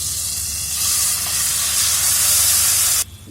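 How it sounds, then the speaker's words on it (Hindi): Mutton pieces dropped into hot oil in a kadhai sizzle loudly and steadily for about three seconds, a broad close frying hiss that swells slightly, then cuts off abruptly. "ऑयल जब थोड़ा सा गरम हो जाए तो अब डालेंगे हम ये मटन"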